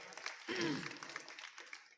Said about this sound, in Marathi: जरा टाळ्या वाजवा त्यांच्याकरता